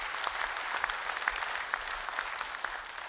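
Audience at a Shymkent comedy show applauding to welcome a new performer, a steady spread of many hands clapping at moderate distance in a large hall, with faint voices in the crowd.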